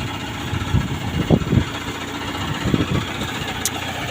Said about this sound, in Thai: ครับพามาเบิงเครื่องสูบน้ำครับ